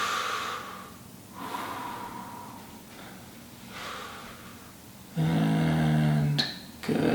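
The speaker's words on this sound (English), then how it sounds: "Breathe right into that hand." Slow, deep breaths drawn in and let out during a seated fascial and organ-release exercise, with soft airy inhales and exhales in a steady rhythm, followed by a louder, sustained breathy sound near the end.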